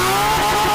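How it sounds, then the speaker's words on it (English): A Porsche 718 Cayman GT4 RS Clubsport race car with its new race exhaust gives a brief, loud, raspy engine drone with a steady tone. The burst is close and heard alone. "When you fire up the car now, you hear the new exhaust system, the sound, it's a pure race car sound."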